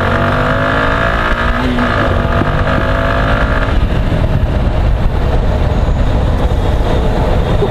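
A Suzuki Intruder 150 motorcycle picks up speed on an open stretch during a test ride, its engine a steady, loud drone with rising harmonic tones that shift and then settle into broadband road and wind rumble, with no talk.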